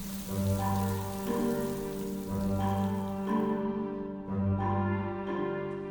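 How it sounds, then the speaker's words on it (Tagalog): Heavy rain pouring steadily, a dense constant hiss with pulsing low drumming on a surface, loud and unbroken throughout with no voices. "dahil malakas ang ulan, siguradong basang-basa ang mga bisita"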